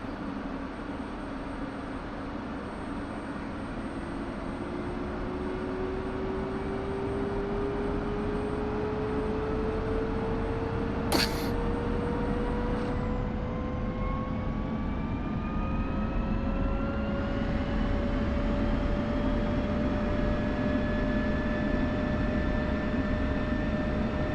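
An F-16's engine idles in the DCS flight simulator, a steady, loud turbine whine and broad rumble holding for the whole stretch, with several tones drifting slowly upward in pitch, and one sharp brief click midway.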